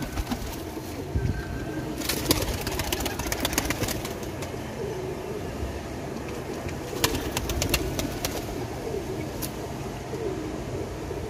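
Lahori flying pigeons coo softly and steadily close by, with occasional sharp flutters of wings breaking through the low, murmuring calls.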